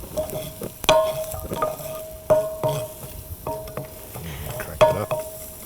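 Onions sweating in ghee and coconut oil over medium heat, a soft sizzle beneath repeated sharp clinks and scrapes of a utensil against the pan, irregular and fairly close.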